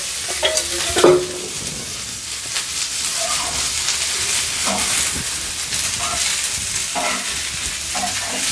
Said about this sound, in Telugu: బెండకాయలు అయితే ఆయిల్ వేసుకొని అయితే వేపుతున్నాను